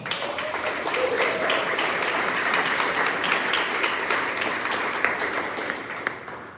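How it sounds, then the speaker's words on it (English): Audience applause at a conceptual design reveal event in Detroit, sustained mid-level clapping from a crowd filling the room, fading slightly at the end. "Can we give them all a big round of applause?"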